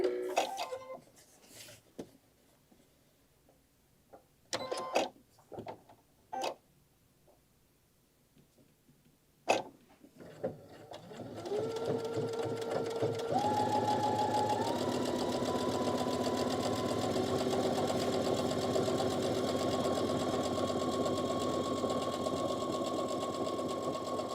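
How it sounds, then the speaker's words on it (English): After scattered handling knocks and rustles, a sewing machine starts and runs steadily, its motor hum rising then holding an even pitch as it stitches the side seam of a fabric wine carrier, close and continuous. "she's going to sew up the one side all the way along the one side"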